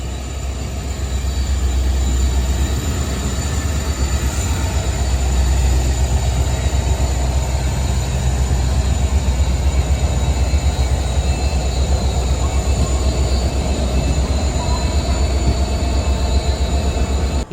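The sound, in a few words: goods train hauled by diesel locomotive passing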